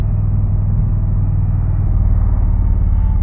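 An Indian Challenger motorcycle exhaust rumbles steadily and loudly up close, a deep continuous idle-like burble holding even with no voices over it.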